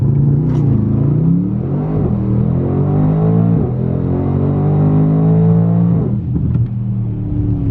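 A straight-piped Mercedes E63S AMG carrying four people accelerates hard uphill from a stop, its loud, close exhaust roaring and rising in pitch through two gear changes before another shift near the end.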